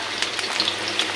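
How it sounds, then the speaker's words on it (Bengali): Potatoes frying in a pan give a steady, close sizzle with faint crackles for a brief moment. "আলুটা একটু ভাজা ভাজা হয়ে যাক,"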